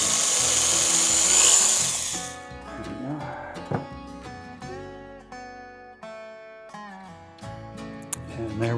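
A power drill bores a hole through wood for the wrist of a Santa marionette, whirring loudly for about two seconds before stopping, followed by a voice talking over light handling noises.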